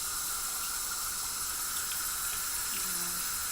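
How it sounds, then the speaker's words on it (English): Tap water runs steadily under a faucet while a dirty brush is rinsed, a close, continuous rush with no talk. "Let me go ahead and rinse it off and I'll show you the brush."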